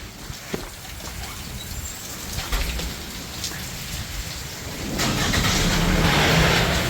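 A car pulls out into a heavy Arizona desert thunderstorm, its faint engine buried under a steady, dense hiss of rain on surfaces. The downpour swells noticeably louder partway through, with no one speaking.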